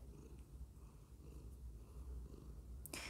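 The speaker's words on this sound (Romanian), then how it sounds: "a venit și pisica să te salute" A domestic cat purrs steadily and close by in a quiet indoor room, a soft continuous low rumble with no talking, ending in a brief brighter noise.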